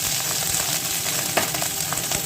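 Rice frying in ghee with bay leaf, garam masala and cinnamon, a loud continuous sizzle with crackling and occasional stirring scrapes, close up and with no talking.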